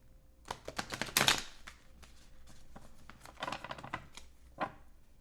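Tarot cards being shuffled by hand, a run of crisp riffling and slapping bursts with a dense flurry near the start and scattered softer clicks after, close and fairly quiet with no talk.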